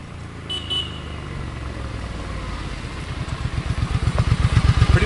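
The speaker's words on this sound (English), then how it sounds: "It's got a great exhaust note to it." A 2005 Suzuki C50 Boulevard motorcycle engine idles low and steady, then revs up into a loud, pulsing exhaust note with a rapid throbbing rhythm that builds toward the end, heard close with no talk.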